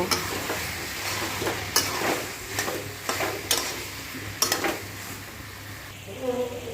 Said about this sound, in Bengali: এবার 1 চামচ মতো লঙ্কার গুঁড়ো অ্যাড করলাম। আবার একটু নেড়ে নেব।